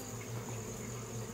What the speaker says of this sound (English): all the other bees are going in and out